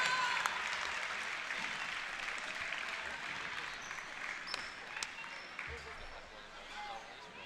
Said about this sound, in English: Let's give all our senior athletes one more round of applause.